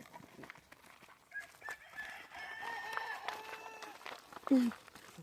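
Several chickens cluck and call close by, with a rooster-like crow rising near the end, amid faint background voices.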